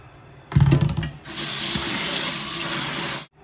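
Food with sand in it rinsed a second time under a running kitchen tap: a short splashy burst, then a steady, loud, close rush of water into the sink that cuts off abruptly.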